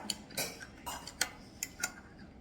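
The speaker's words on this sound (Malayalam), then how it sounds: "ഇത് രണ്ടും നന്നായിട്ട് തന്നെ ഇളക്കുക" A spoon stirring two ingredients together in a bowl, giving quiet, irregular clinks and taps that recur every half second or so without talk.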